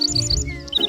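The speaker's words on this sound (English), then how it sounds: "That's a bird singing." A bird singing, a bright close series of repeated high chirps in two quick bursts with a brief pause between, heard alone.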